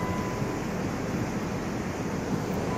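Steady broadband roar of ocean surf, continuous and fairly loud, with wind noise mixed in and no distinct wave breaks standing out.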